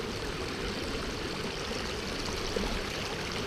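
A creek runs at a crossing with the water a little high, giving a steady, even rush of flowing water close by with no pauses.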